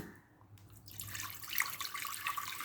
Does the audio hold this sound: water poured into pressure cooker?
yes